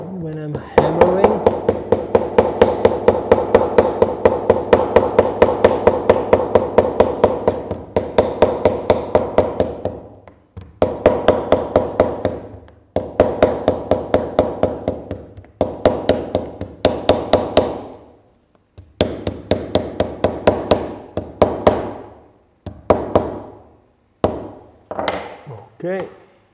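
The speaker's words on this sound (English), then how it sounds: "this is a small tiny Japanese hammer which I use for this kind of work" A small Japanese hammer taps guitar purfling into place at a luthier's workbench in quick, sharp, evenly paced bursts of close strikes, with short pauses between runs.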